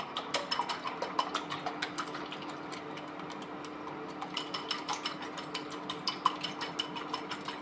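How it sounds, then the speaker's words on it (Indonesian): Metal whisk beating eggs for an omelette in a bowl, a fast even rhythm of light clicking taps against the sides, continuous and close, with a faint background hum. "Kita gunakan whisk supaya ngocoknya juga lebih enak."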